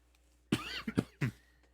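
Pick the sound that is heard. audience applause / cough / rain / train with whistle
cough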